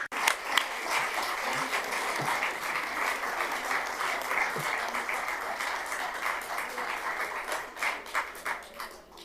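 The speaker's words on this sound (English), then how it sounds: "A big round of applause to the speakers." Audience applauding conference speakers at a panel session on war at EU borders and European defense; dense, steady clapping from a sizable crowd throughout, with a few sharper individual claps standing out near the start.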